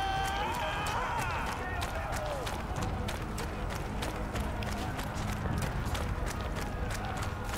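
A horse gallops in the medieval combat game Chivalry 2. Its rapid, rhythmic hoofbeats drive on throughout, under players' voices and battle noise.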